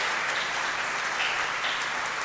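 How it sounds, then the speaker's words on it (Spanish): A church congregation applauding during a Spanish-language Christian sermon, a steady, dense wash of clapping that holds evenly for the whole stretch with no voices on top. "Denle más fuerte el aplauso entonces, así mejora."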